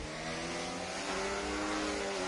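A race car in a racing video game on the Austria circuit drifts into a corner, its engine revving in a strained, steady tone with a faint tire squeal rising alongside it.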